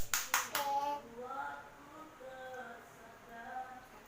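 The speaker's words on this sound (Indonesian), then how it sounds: "tepuk tangan untuk teman kalian yang menjawab terus" A short burst of quick hand clapping by primary school children in a classroom at the start, then children's voices and a teacher talking softly.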